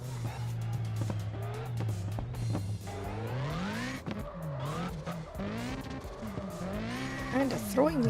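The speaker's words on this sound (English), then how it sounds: "The engine sound is glitching out." Car engine in the racing game CarX Drift Racing Online 2, glitching, with a droning engine tone that wavers and bends unevenly in pitch, mixed with tire squeal, under someone talking.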